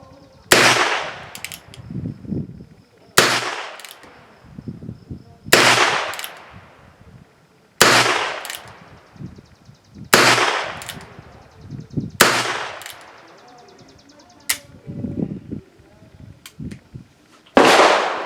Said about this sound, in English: I have the Rough Rider loaded up again, and I'm going to shoot some more rounds.